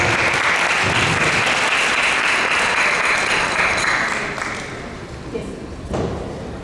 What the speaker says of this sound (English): we'll give a round of applause and welcome to Shyama and Dasi here to the front